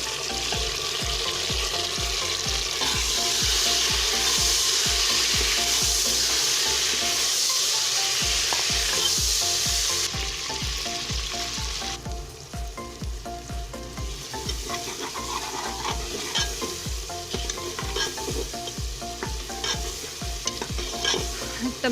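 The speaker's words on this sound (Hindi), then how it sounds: "अब टमाटर शामिल करेंगे।" Tomatoes frying with browned onions and garlic in a pot while preparing chicken pulao, giving a steady loud sizzle with frequent stirring scrapes throughout and no talk.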